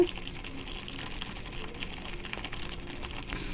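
Onion thokku frying in a kadai with chilli powder and pepper, a steady soft sizzle and bubbling that runs evenly throughout at low level.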